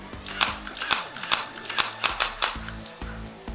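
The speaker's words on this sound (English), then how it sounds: "But if I press the trigger back," A Strike Pros tactical laser tag blaster fires in a quick run of about eight sharp, close electronic shots, each a crisp burst with a tonal whine beneath, evenly spaced and heard alone.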